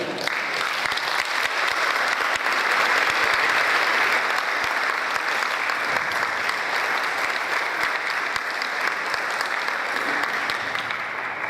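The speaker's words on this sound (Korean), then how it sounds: "박수를 좀 크게 주시면서 환영해 주시면 감사하겠습니다" A seminar audience applauds steadily to welcome an invited lecturer, a dense, even wash of clapping from many hands that holds throughout without a break.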